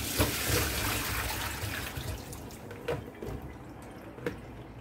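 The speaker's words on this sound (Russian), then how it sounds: "Пока там стекает вода" Water draining off boiled apricots during apricot jam making, a faint trickling and dripping with a few distinct drops standing out, quiet and close with no talking.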